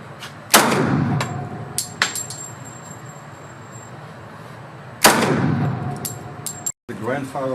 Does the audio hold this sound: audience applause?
no